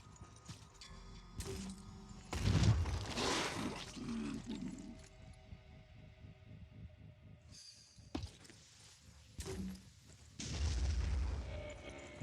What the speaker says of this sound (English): We're just going to be shooting grenades to right here